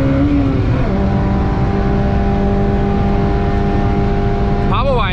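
A Honda Civic Type R EP3 engine drones loudly and steadily on the Nürburgring, holding a high revving tone with a short shift or rev change near the end, heard from inside the car.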